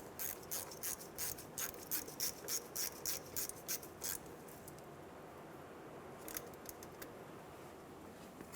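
A ratchet wrench clicks rapidly while snugging a 10mm bolt on the front ABS wheel speed sensor bracket of a 2000-2006 Toyota Tundra, a steady run of close ratcheting followed by a pause and a shorter burst.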